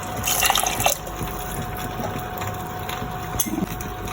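Water being poured into a pot of Indian sardine curry with tamarind juice, a steady close liquid splash and trickle lasting a few seconds.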